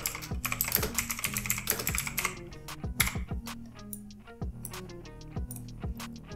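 Steady, fast typing on a computer keyboard while entering quote text for an Instagram post, close and crisp clicking with a few sharper spacebar-like thumps and no talking.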